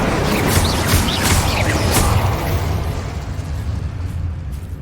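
The Incendio fire spell is cast in Hogwarts Legacy: a loud whooshing burst of flame roars up, crackles and then tapers off as it fades.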